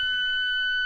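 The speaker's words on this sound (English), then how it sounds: "Sorry for the beep. I should have put the seatbelt on first." A steady two-tone electronic seatbelt warning chime in an Alfa Romeo car rings continuously at moderate loudness, with no other sounds around it.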